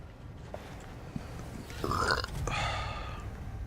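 A person lets out a loud, drawn-out burp close to the microphone, two rough croaking pushes in a row over faint background hiss.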